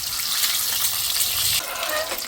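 Boiled eggs spluttering as they fry in hot oil for egg tikka masala, a dense, steady close-up sizzle that eases slightly partway through.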